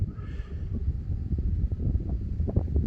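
Cold dawn wind in Bangalore buffets the microphone with uneven low rumbling gusts, steady and fairly close, with faint scattered clicks and a brief tonal trace early on and no speech.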